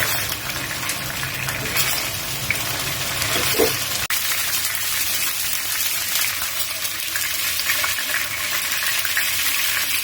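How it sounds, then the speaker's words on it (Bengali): Marinated chicken pieces fry in hot oil in a pan, giving a steady, moderately loud hiss and crackle that runs unbroken, with one brief knock partway through. "এক পাশ চিকেন ভাজা হয়ে গেলে তারপর সবগুলো চিকেন উল্টে দিব"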